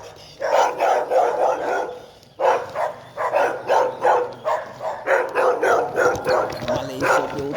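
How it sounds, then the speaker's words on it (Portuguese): A dog barks repeatedly in a steady rhythm, loud and close, with short pauses between bursts of deep, resonant woofs. "Os cachorros."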